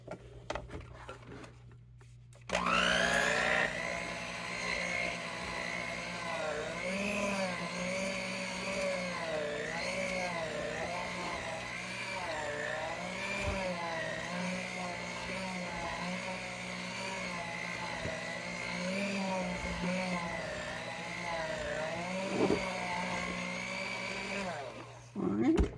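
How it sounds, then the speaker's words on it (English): An electric mixer whirs steadily and close as it mixes cookies and cream cupcake batter in a bowl, starting abruptly and running as a continuous buzzing drone with slight wavering pitch for about twenty seconds before it cuts off. "And then continue mixing it."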